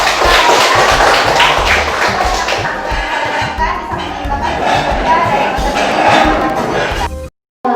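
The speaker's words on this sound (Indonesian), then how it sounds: "Oke, tepuk tangan" A classroom of students clapping their hands together in unison, a dense, loud run of overlapping claps lasting several seconds before cutting off abruptly.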